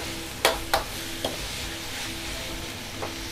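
Beef stir-fries in a pan with red curry paste, a soft continuous sizzle punctuated by a few quick spatula scrapes and taps, close and fairly quiet with no speech.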